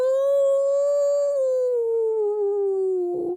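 A human voice imitates a dog's pitiful howl, one long sustained wail that slides slowly downward in pitch for about three seconds, loud and alone, before cutting off abruptly.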